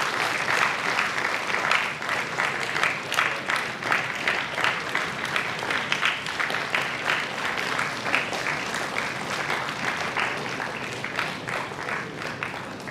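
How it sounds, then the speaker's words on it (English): Steady, dense applause from a ceremony audience at a geospatial technologies event, continuous clapping filling the hall for the whole stretch without a break. "Can we have the applause going?"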